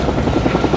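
Medevac helicopter nearby, a loud continuous rotor thrum with rapid rhythmic beating filling the brief moment.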